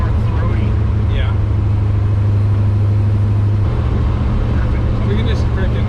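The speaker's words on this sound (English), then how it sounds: "these mufflers are pretty quiet" A 1953 Chevy pickup engine idles steadily through quiet mufflers, a low, even rumble that holds continuously close by, with speech over it.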